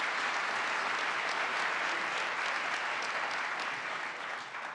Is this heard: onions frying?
no